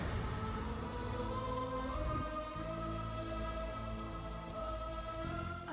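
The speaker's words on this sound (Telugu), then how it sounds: "వర్షంలో తడిసిపోతోంది" Rain falls steadily in a soft, even patter under a sustained musical score, faint and continuous throughout.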